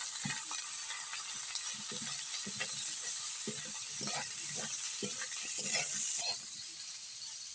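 Cauliflower and other vegetables fry in ginger and cumin paste in a pan, a steady high sizzle with scattered soft clinks and scraping stirs, close and fairly quiet, with no talk.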